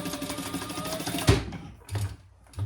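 A sewing machine runs a short burst reinforcing a seam on a caddy and diaper pouch, stopping abruptly with a thump, followed by two brief low mechanical bumps.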